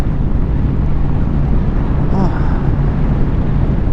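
A 1998 Honda Shadow Ace motorcycle being ridden, its engine a low steady drone buried under loud, constant wind rush against the microphone, with a voice faintly mixed in.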